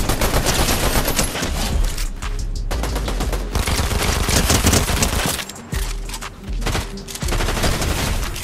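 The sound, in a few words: gunfire from the video game Fortnite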